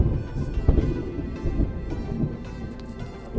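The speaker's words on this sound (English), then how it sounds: "Oh, y'all heard that thunder rumble." Thunder rolls as a low, sustained rumble with a few stronger swells, fairly loud and continuous, with faint rain beneath and no voices.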